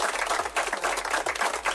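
A played applause effect of a crowd clapping, dense and steady with slight swells, moderately loud over its short length, with no voices on top.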